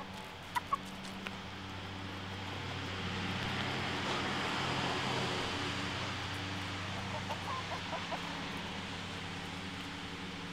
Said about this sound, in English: start pecking at them when the other chickens show interest